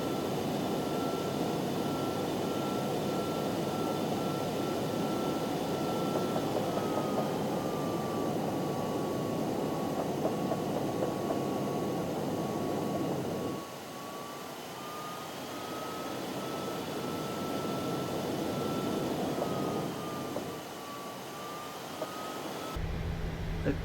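A PMDG 737-800 taxis in Microsoft Flight Simulator, a steady whining jet engine hum with a slowly wavering tone that drops quieter partway through, no talking.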